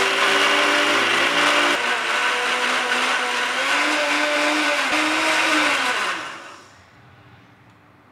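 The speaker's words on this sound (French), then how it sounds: "maintenant on mélange le tout d'abord en pulsion" Blender pulsing a banana, vanilla and acerola juice, a loud steady motor whir with shifting pitch for about six seconds before cutting off and fading to quiet.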